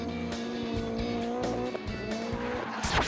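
A drift car powers through a slide at a drifting event, its engine revving hard under throttle while the rear tires squeal loudly and continuously, with brief shifts in pitch as the engine note rises and falls.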